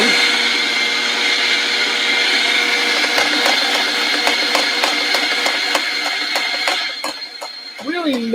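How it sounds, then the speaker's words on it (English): An espresso coffee grinder works through beans with a loud, close, steady motorized whir and intermittent crackling ticks, then winds down near the end as a voice starts speaking. "time to grind"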